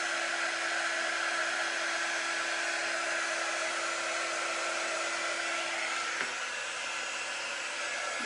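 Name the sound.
hair dryer drying paint on autumn leaf decor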